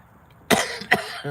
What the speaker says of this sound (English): I got to coughing